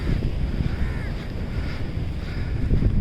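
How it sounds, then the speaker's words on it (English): A fishing boat's low engine rumble approaches the shore from the sea through steady wind buffeting the microphone, with waves washing in the background. "I saw one fishing boat coming."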